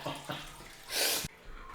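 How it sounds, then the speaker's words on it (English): An indoor water fountain gives off a bright, toilet-like gush of running water in one burst lasting about a third of a second, alone and fairly close. "This fountain sounds like toilet water."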